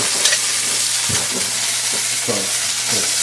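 Rhubarb cherry chutney sizzles steadily in a hot pan while a spoon stirs it in a few distinct scraping strokes, all close up and without talk.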